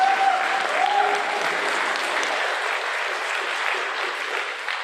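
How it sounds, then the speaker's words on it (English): Steady, sustained applause from a church congregation during a Sunday service, thanking the nursery workers; dense clapping fills about five seconds at even loudness, with a faint voice briefly audible near the start. "can we give a round of applause to our nursery workers?"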